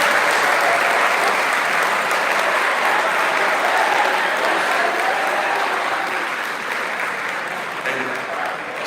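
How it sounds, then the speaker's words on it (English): Steady applause from a sizable crowd at a college athletics awards ceremony, loud and continuous, fading slightly toward the end. "get a round of applause from everybody else"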